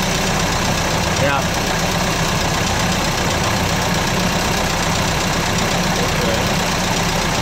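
A 1935 Chris Craft boat's 60 hp four-cylinder Hercules Model B marine engine runs steadily with a continuous mid-pitched drone throughout, nearby and loud, while a person briefly speaks over it.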